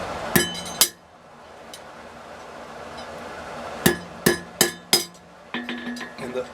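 A hammer strikes a steel bar while an eye is cold forged, with sharp metallic blows ringing out: two early hits, a pause, then a quick run of blows and lighter taps, close and clear.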